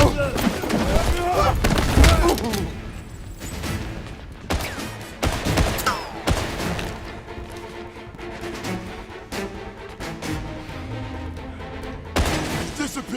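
Bursts of gunfire crack and boom in the video game 007 First Light, a heavy volley early on followed by scattered shots and thuds, with voices calling out between them.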